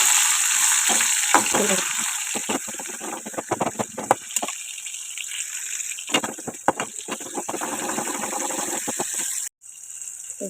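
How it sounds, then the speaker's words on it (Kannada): Tomato frying in a pan with oil, a steady close sizzle with occasional stirring scrapes throughout, briefly cutting out near the end. "ಚೆಂದಾಗಿ ಫ್ರೈ ಆಯ್ತು ನೋಡ್ರಿ"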